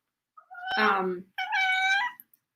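Two cat meows close up, the first a short low-pitched call, the second a longer, clearer whining meow after a brief pause.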